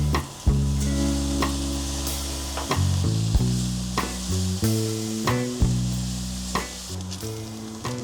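Mushrooms, onions and garlic stir-frying with soy sauce for a ramyeon dish, a steady loud sizzle with repeated knocks and scrapes of a spatula, while a low electric hum runs underneath.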